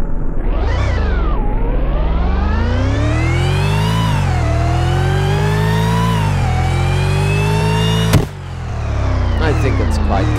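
A video game car engine revs loudly and continuously, pitch climbing and dropping through gear shifts, with a sharp click near the end before the engine settles back.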